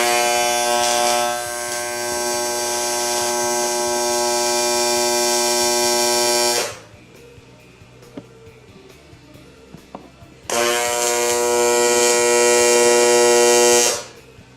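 An AC TIG welding arc on aluminum at 115 amps gives a loud, steady, harsh electrical buzz, running for about seven seconds, stopping briefly, then returning for a second long stretch.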